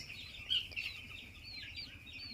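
Seven-day-old pet bird chicks kept indoors peep softly in a thin, continuous high twitter, quiet and a little distant, with no voices.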